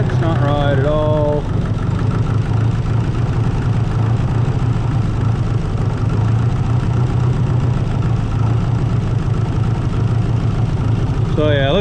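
A 1955 International 300 truck engine runs and idles with a steady, loud low rumble throughout, someone speaking briefly at the start and end.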